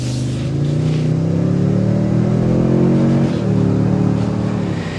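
A 2024 Toyota Sequoia Capstone SUV accelerates on a test drive, its engine note rising steadily and loud from inside the cabin, easing briefly before climbing again.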